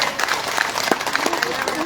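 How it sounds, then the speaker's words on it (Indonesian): Applause from an audience at a workers' social security outreach session, a steady patter of clapping with voices talking over it throughout. "tepuk tangan dulu"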